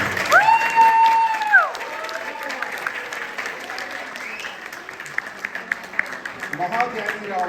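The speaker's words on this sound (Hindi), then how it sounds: "महाज्ञानी रावण, तालियां बजाइए।" Audience at a musical Ramleela performance in a Hindu temple applauds the character Ravana, a steady wash of clapping under a loud announcer's voice and musical tones, with scattered cheers.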